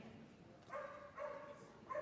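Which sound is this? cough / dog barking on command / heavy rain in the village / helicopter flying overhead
dog barking on command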